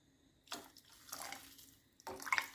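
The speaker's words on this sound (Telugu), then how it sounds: "వాటర్ పోసుకోవాలి." Water is poured into a pan of fried ingredients while cooking a ragi flour dish, coming in two close splashing bursts with a quiet gap between them and no talk.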